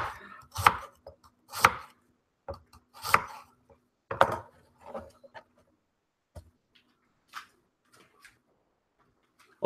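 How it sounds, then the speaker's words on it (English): A kitchen knife chops carrots on a board in a string of sharp, distinct strokes, heavy and spaced about a second apart at first, then lighter and quieter taps trailing off, heard close and alone with no talking. "Okay, all the carrots are chopped."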